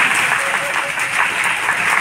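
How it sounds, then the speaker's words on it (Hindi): An audience at a Hindi poetry recital (kavi sammelan) applauds in a loud, dense, steady burst of clapping that fills the whole stretch without a break. "आप यहां पे अपनी तालियां नहीं रोक पाएंगे"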